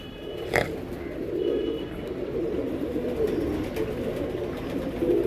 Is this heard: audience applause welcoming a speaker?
no